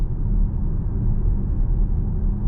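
Low, steady engine rumble in performance mode heard from inside a 2025 CUPRA Terramar eHybrid, moderately loud and without voices.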